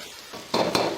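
Minced lean pork being stir-fried with chopped scallion and ginger in a wok, a spatula scraping and clinking against the pan in two louder bursts over a low background sizzle.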